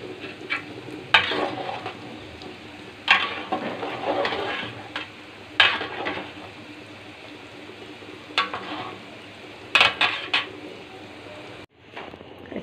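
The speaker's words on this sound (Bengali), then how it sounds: "পেঁয়াজ ভাজতেছি" Onions fry in a pan for beef nehari, giving a steady sizzle broken by repeated loud spatula-and-pan clatters, with distant birds calling and brief talk in the background.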